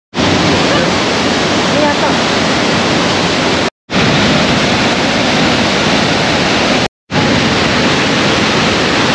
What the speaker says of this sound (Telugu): ఇది devils fall. Devils fall flow అయితే ఘోరంగా ఉంది.